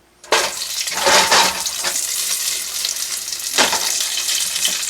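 Asparagus dropped into a pan with about two tablespoons of hot oil, bursting into a loud, steady sizzle with a brief crackling surge a few seconds in, close and alone.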